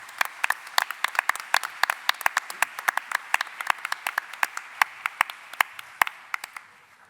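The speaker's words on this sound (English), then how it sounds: "give Kirsten a little round of applause" Thin applause from a small conference audience, a handful of people clapping in loose, uneven bursts of distinct, crisp hand claps, fairly close, tapering off at the end.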